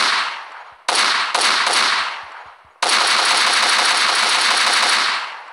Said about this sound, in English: This is called the AUG, and if you aim and fire, it's 2-hit kill as well.